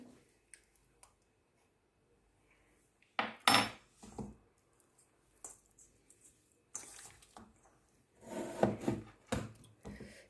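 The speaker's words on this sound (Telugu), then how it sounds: "అండ్ ఇవన్నీ ఇప్పుడు మంచిగా కలిసేటట్టు మిక్స్ చేసుకోవాలి." Mutton pulao ingredients being mixed together in a bowl, with intermittent clinks, scrapes and wet squelching in bursts, loudest toward the end, close and fairly faint, no talking.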